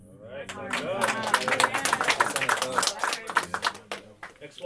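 A group of people clap hands together in a quick, fairly close burst of claps lasting several seconds, with rhythm loosening toward the end.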